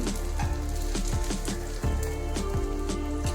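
Pieces of yam fry in a pan with a dense, steady sizzle that sounds close and loud throughout, with a faint rhythmic clatter running under it and no talk.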